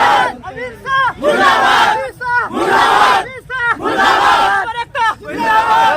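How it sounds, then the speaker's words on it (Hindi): A loud crowd of protesters near Darbhanga, Bihar, chants slogans against a law in forceful call-and-response bursts. The voices rise and fall in a steady rhythm of shouted phrases that repeats about once a second. "काला कानून वापस लो, अमित शाह मुर्दाबाद का नारा लगाया जा रहा है"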